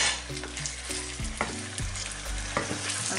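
Turkey pieces and mushrooms frying in a pan, a close, steady sizzle under repeated scraping strokes of a utensil stirring the food, with no voices.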